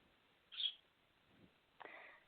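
A pet bird chirps faintly in the background of a quiet room: one bright short call, then a softer scratchy note a little over a second later.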